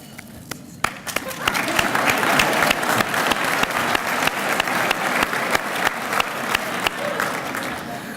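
An audience applauds at a graduation ceremony for a training program class, a steady wash of many hands clapping that swells after a quiet start and holds for several seconds.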